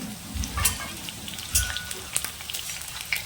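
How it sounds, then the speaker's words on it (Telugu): Bitter gourd frying in a pan, a soft continuous sizzle broken by a few clinks and stirring scrapes, quiet and close, with no voices. "ఇక్కడ నేను చూపిస్తున్నాను కదా ఆ విధంగా ఫ్రై అయితే సరిపోతుంది"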